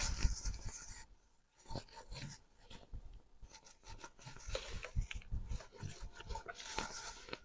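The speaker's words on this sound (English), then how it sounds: "you need to draw out your lines" Lines are drawn onto fabric to mark a seam allowance, making faint, uneven scratchy rubbing strokes in short bursts, with a brief pause between them.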